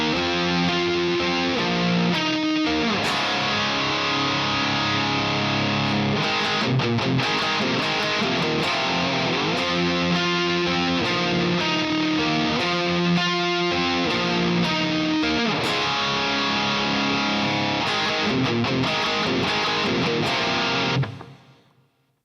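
Rhythm part on heavily distorted electric guitar, a dense continuous riff of two-note chords with a full backing track, loud and steady for about twenty seconds before cutting off.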